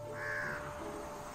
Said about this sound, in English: Crows will mob the eagles relentlessly.